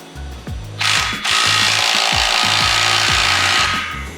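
A power tool whirs loudly and continuously while tightening clamps on an AWE catback exhaust on a Honda Civic Type R, with repeated ratcheting knocks underneath and a grinding buzz close to the microphone.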